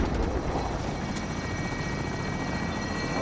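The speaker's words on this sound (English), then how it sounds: "The people flying around in that helicopter, that's the top team." Helicopter in Call of Duty Warzone flying overhead, a steady loud rotor drone with rhythmic blade chop filling the whole stretch, no talk over it.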